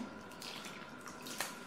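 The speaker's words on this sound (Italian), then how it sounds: "Aggiungo la restante acqua," Remaining water poured a little at a time into homemade bread dough made with strong flour, a soft trickling splash heard close and quietly, with one brief brighter splash near the end.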